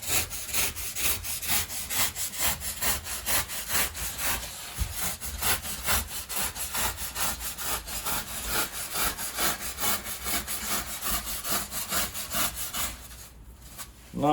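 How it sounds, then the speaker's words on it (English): Hacksaw blade rasping across the top corners of a wooden rib on an Orkney fishing boat, a steady rapid back-and-forth rhythm of close strokes throughout, stopping just before the end. "there's one along with a hacksaw blade, just to take the corners off"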